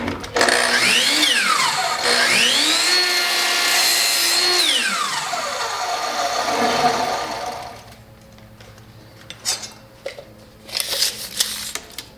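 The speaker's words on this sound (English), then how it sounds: "this one, I'm going to cut to the width of the plywood base" A circular saw revs up and cuts through plywood while a crosscutting box is built, its whine rising and falling in pitch as the blade loads and winds down, followed by scattered clattering and knocks of the workpiece.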